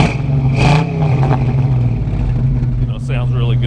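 A Ford 351W V8 with fuel injection in a 1940 Mercury coupe revs loudly and close, its engine roar rising and holding, while someone talks over it.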